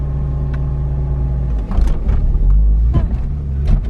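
A Mercedes-AMG E63 S pulls away from a stop sign as the clutch is eased out, its engine rumbling loud and steady close by, then swelling with a few rougher surges as the car gets moving.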